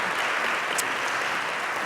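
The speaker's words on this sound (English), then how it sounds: "Please give them a warm round of applause." A conference audience claps steadily and densely throughout, a continuous wash of many hands with no voices over it.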